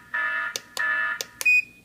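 An alarm clock's alarm sounds in a close, loud pattern of three long steady electronic beeps, each ended by a short click, and then a brief higher tone.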